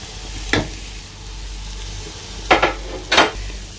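Ginger, garlic and spices fry in a pot for chicken biryani, with a steady low sizzle broken by three brief scraping stirs of a utensil, close and clear with no talking.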